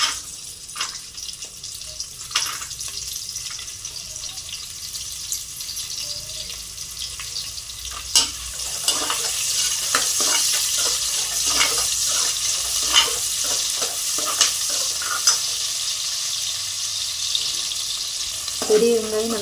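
Large onions frying in a pan for chicken biryani: a continuous sizzle with stirring scrapes and occasional clinks, close by, growing a little louder partway through.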